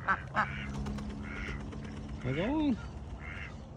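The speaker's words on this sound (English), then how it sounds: "Duck." A duck on a homestead quacks several times in short nasal bursts, with one longer drawn-out call near the end. Nearby, a person speaks briefly over a faint outdoor background.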